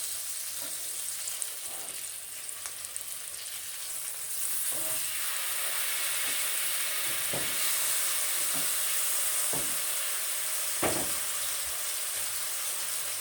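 Salmon pan-fries in a hot pan with a constant loud sizzle and hiss, broken by several spatula taps and scrapes as the piece is turned, close up with no talk.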